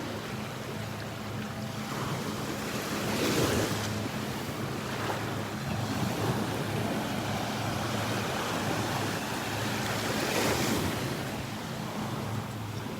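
Steady ocean surf rolls and swells continuously at Delnor-Wiggins beach, with wind buffeting the microphone and no voices.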